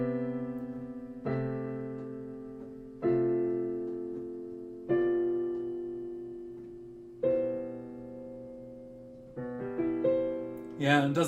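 Keyboard plays a seventh chord progression with the seventh voiced low in the bass: an opening chord and then five more struck at a slow, even pace, each sustained and decaying, with a brief busier flourish near the end.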